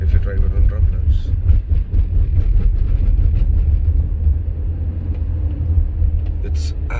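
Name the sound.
tire noise from a 2011 Honda Accord driving over rumble strips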